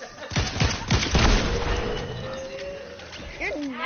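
Gunshots ring out outdoors near bushes, a burst of sharp, loud cracks in the first seconds that fades into a quieter stretch, with voices talking and a bird cooing toward the end.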